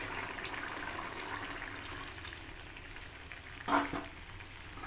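Chicken simmering in a pot with black pepper and milk just added, a soft steady bubbling hiss at low level, a brief louder splash or stir near the end, no talk.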